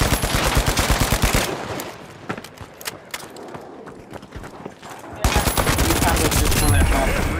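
An SMG in The Finals fires rapid automatic bursts, a loud rattling stream for about a second and a half, a quieter stretch of scattered shots, then another sustained burst near the end.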